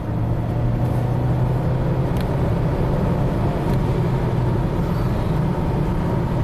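Acura RDX turbocharged car accelerating hard in a 0-60 run, heard from inside as a steady, loud engine and road roar with a constant low drone and no speech.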